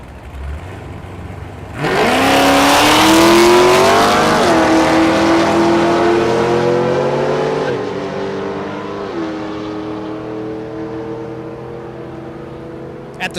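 A GTO and a Trailblazer SS drag race at Thunder Valley in Noble, Oklahoma, launching with a sudden loud roar whose engine pitch climbs through several gear shifts before fading down the strip.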